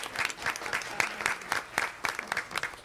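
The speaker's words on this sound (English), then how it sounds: "round of applause for Cameron, everybody" Scattered applause at a school board meeting, a thin roomful of claps with uneven rhythm, fairly faint and steady for a few seconds, no talking over it.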